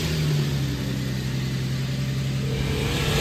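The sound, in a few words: Nissan Skyline 370GT engine running after repair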